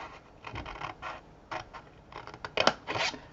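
Scissors cut card paper along score lines for a Halloween paper craft, close and fairly quiet, with a series of short snips that grow denser and louder toward the end, without any speech.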